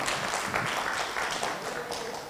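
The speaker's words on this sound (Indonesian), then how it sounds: "tepuk tangan buat Mas Samsul Hadi" An audience at an Indonesian training workshop in Sidoarjo breaks into brief, moderately loud clapping that fades slightly over a couple of seconds.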